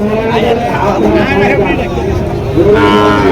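Several cattle at a market of Sahiwal bulls moo loudly nearby, long drawn-out lowing calls overlapping one another, with a murmur of people in the background.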